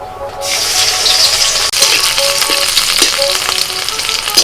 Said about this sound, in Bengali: কড়াইতে সরষের তেল দিয়ে ওর মধ্যে আমি দিয়ে দিচ্ছি রসুন কুচি আর কাঁচা লঙ্কা কুচি